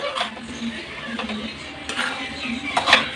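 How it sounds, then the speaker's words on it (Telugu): Poha and peanut laddu mixture is stirred in a bowl, the spoon scraping and clinking against the sides in irregular knocks, with a few sharper clinks near the end. "మొత్తం అన్నీ వేసేసి ఇలా కలుపుకోవాలండి"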